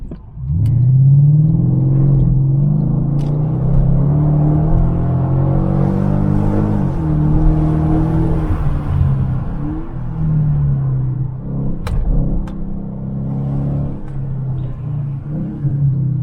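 A 5.5-litre V8 in a ten-year-old Mercedes-Benz E500 Coupe accelerates hard, its deep, loud engine rumble rising and shifting through gears steadily from the cabin, with no talk.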